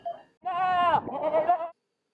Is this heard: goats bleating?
yes